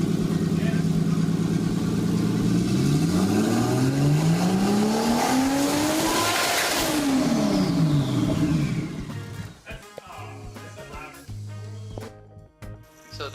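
A car engine roars loudly and revs hard, its pitch climbing and then falling in sweeping arcs, before dropping to a quieter, rougher running sound.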